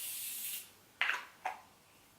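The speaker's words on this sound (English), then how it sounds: "I'm going to use my Continuous Setting Spray by Morphe" Morphe Continuous Setting Spray misted onto a face: a long soft hiss of spray, then two short sharp spritzes and the start of a third, close and alone.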